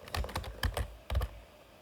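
Computer keyboard keys clack in a quick uneven cluster of about ten presses, close and fairly soft, with no talk over them.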